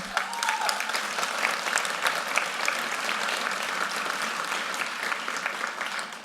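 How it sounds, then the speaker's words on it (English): Sustained audience applause at a charity ball, dense even clapping from many hands that holds steady and loud for about six seconds before easing slightly, with no talking over it. "Thank you for applauding"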